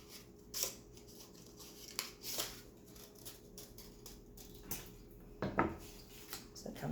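Scissors cut a paper heart shape in short, quiet snips with scattered small paper rustles and pauses between cuts.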